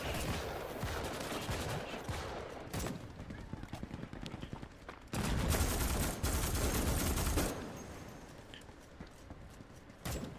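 Gunfire in the Starship Troopers video game, heard as rapid bursts of shots and loud blasts over continuous battle noise, with stretches of heavier sustained firing mid-clip.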